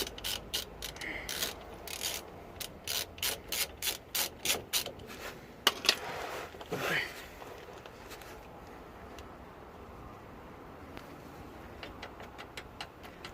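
A ratchet clicks in quick bursts of strokes while turning a 13mm bolt on the brake caliper of a Renault Master camper van, loud and close, then falls to a few sparse clicks and quiet shuffling.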